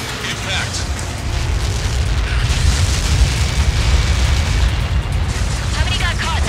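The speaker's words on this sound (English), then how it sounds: "How many got caught in that explosion?" A massive explosion in the combat flight game Ace Combat 7 rolls out as a loud, continuous deep rumble and roar, holding steady for several seconds with no pause.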